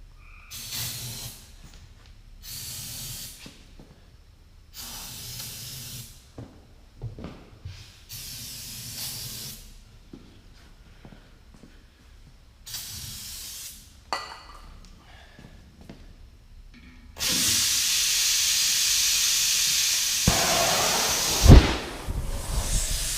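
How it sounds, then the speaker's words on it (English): Repeated short hissing bursts of ether sprayed into a tractor tire on a Ford 5610, each blast a few seconds long with pauses between, ending in a long continuous loud spray and a sharp thump. "want to spray ether down in there while it's still fire in there"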